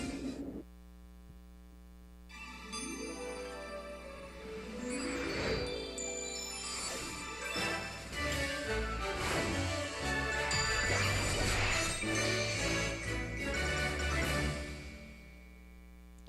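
Trial battle music from the Pokémon Moon video game, a busy, dense electronic track with bright jingling melodic lines and steady driving rhythm, playing loud and continuous throughout with no talking.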